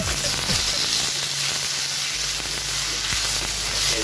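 Chicken breast sizzles steadily as it is sautéed with onion in a hot pan, making a continuous close frying hiss with a few faint clinks of stirring.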